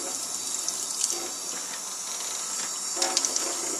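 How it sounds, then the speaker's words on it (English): Warm water runs steadily into a container while homemade laundry soap is being mixed, a continuous hissing pour with a few brief splashy bursts near the end, close and fairly quiet, with no talking. "I'm going to go ahead and fill this most of the way with the warm water."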